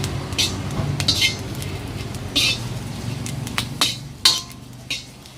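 Ingredients dry-roasted in a pan for a grilled chicken and galangal dish, with a utensil scraping and clinking against the metal in repeated sharp strokes over a low background hum.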